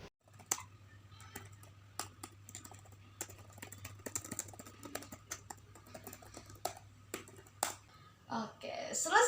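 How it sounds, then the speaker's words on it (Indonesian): Close, irregular clicks of typing on a computer keyboard, light keystrokes scattered over a low steady hum, with a brief louder patch of other sound at the very end. "Oke, sebentar ya, aku ketik dulu."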